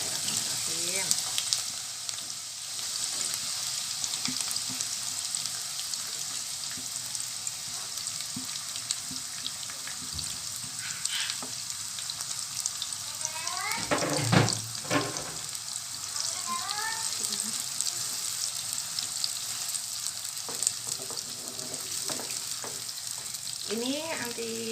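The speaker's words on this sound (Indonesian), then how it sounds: "Kita masukkan bombay yang sudah diiris." Sliced onion sautés in hot oil for Pekalongan soto tauto, a continuous loud sizzle with occasional stirring clatter and a burst of stronger hissing midway.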